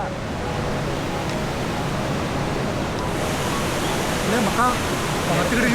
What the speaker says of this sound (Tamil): இதுதான் காட்டேரியில் இருக்க வாட்டர் ஃபால்ஸ்.